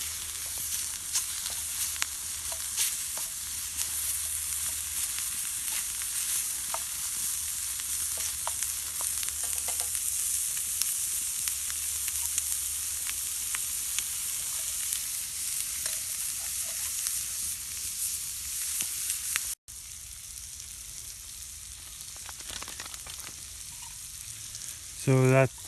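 Already-cooked food warms in a metal mess kit over a hot campfire in the woods, giving off a steady, fairly loud sizzle and crackle with occasional sharp pops, briefly interrupted near the end.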